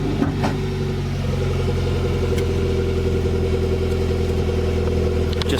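A car engine fitted with an aftermarket side-exit exhaust runs steadily, a loud continuous low rumble held at an even idle throughout with no voices.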